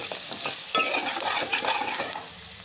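Turmeric and ginger-garlic paste frying in hot oil for an aloo tomato curry, with a lively crackling sizzle and repeated close scraping stirs in the pan.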